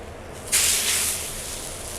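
Consomme-dipped tortillas hit a hot grill for birria tacos, a sudden loud sizzle that flares up and then settles into a steady hiss.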